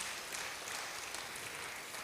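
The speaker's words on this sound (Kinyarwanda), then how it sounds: "Reka duhe Imana amashyi kubwo iryo shimwe." Congregation at a Sunday church service claps in thanksgiving, a faint, dense, even wash of applause with no talking.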